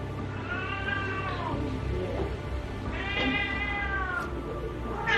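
A cat meows repeatedly in drawn-out, agitated cries, three distinct calls spaced a second or two apart over a steady low background hum.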